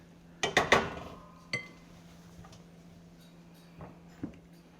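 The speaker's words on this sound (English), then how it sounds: "we're even gonna put a lid on this while it cooks for about 7 minutes. You can stir it a couple times while it's cooking" A pot lid and utensil clink over apple pie filling cooking on the stove: a quick cluster of three metallic clanks, then a single knock and two faint taps, close and isolated.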